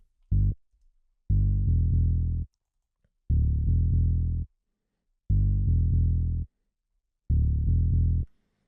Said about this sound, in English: then we have this main analog bass sound here